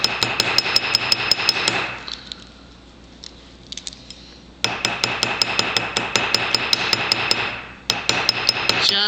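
A hammer strikes a rivet head flat on sheet metal in rapid, loud, ringing blows, with a pause of a couple of seconds and a brief break near the end.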